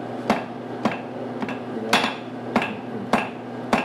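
A hammer striking hot metal during blacksmith forging, seven sharp ringing blows at a steady, unhurried pace, about half a second apart, close and loud over a low background hum, with no talk.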